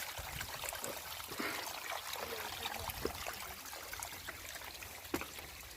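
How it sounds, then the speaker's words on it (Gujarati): Rainwater streams steadily across a hillside, a soft continuous trickle and rush heard alone at low volume with a few small splashes. "આ જો આ પોણી ચાલુ થઈ ગયું વરસાદ"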